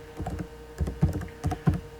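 Keys clacking on a computer keyboard while Python code for a temperature converter is typed, in short irregular bursts of fairly loud, close strokes with no talking.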